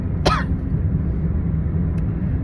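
A single sharp cough from a person with a pollen-irritated throat cuts through steady low background rumble, followed later by a faint short click.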